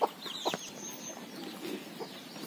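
A hen clucks as she forages with her chicks around a house on a rainy morning, a few soft clucks and chirps rising over a steady outdoor background with other birds.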